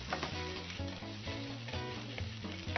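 Shrimp and minced garlic sizzle and crackle steadily in a hot pan, a continuous frying hiss with light stirring scrapes, close and fairly loud, with no voices.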